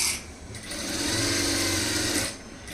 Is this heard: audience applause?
no